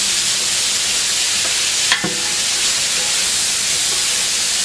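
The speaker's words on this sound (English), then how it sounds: "How much do we have to cook them, Elena?" Food for homemade tomato ketchup sizzles in a pan with a steady, loud frying hiss throughout and a brief stir near the middle, with no talking.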